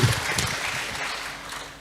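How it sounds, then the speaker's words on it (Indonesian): Audience applause in a university lecture hall at UGM, a dense steady wash of clapping filling the whole moment, moderately loud and close, with no voices on top. "Ya tepuk tangan untuk kita semuanya."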